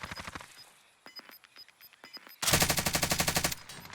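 Gunfire from a player spraying shots in the Warzone video game: scattered single shots at first, then a loud, sustained rapid-fire burst of about a second.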